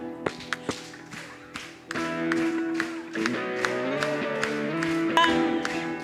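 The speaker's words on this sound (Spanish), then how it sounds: "¿Puede hacerlo más fuerte? ¿Con las palmas?" A church congregation clapping along with a worship song, rhythmic hand claps over sung music, with a few sharp louder claps near the start and the claps continuing steadily under the singing.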